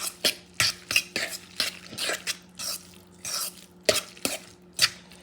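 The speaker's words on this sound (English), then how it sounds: "So what you do now, you start mixing everything together." Salmon cake ingredients being mixed in a bowl, with irregular clinks and scrapes of a utensil against the dish, mid-loud and close, with no talking.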